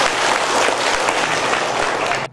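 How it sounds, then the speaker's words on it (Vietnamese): Applause from an audience at a ward-level Buddhist celebration in Ô Môn, steady dense clapping throughout that cuts off abruptly at the end. "Vậy đề nghị quý vị chúng ta cho tràng pháo tay."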